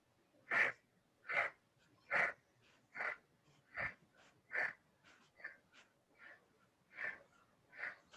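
Ten or so sharp, breathy exhales during a pulsing core exercise, evenly spaced about every half second to second, close and fairly quiet with no talking.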